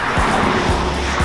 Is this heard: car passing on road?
yes